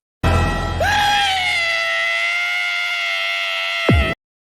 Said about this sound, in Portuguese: Mas assustado, ele dá um tremendo grito.